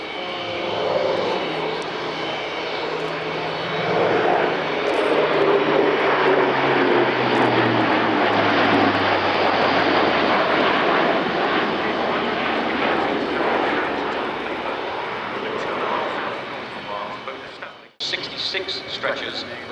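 A Luftwaffe Airbus A400M Atlas military transport flies a display at RIAT, its loud turboprop drone sustained and sweeping in pitch as it banks, then cut off abruptly near the end.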